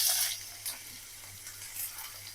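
Chopped onion, green chilies and dried red chilies fry in a hot frying pan, giving a steady, soft sizzle and hiss close by, with faint stirring ticks.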